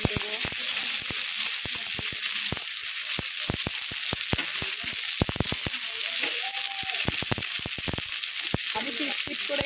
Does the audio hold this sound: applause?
no